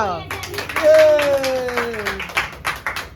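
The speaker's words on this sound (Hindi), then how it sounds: "एक बार तालियां" A few people clap after a song, scattered sharp claps mixed with a sustained sung or hummed tone and voices.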